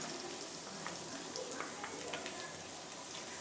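Onions fry on low gas heat in a pan after ginger-garlic paste, for a chicken seekh kebab masala. They give a quiet, steady sizzling hiss with faint scattered crackles and no voices.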